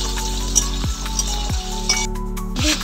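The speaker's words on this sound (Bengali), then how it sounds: "আলুগুলো ছেড়ে দিলাম," Potatoes hit hot oil already tempered with dried chillies, cumin, cinnamon, cardamom and cloves, giving a steady close sizzle broken by three sharp spoon or pan clinks.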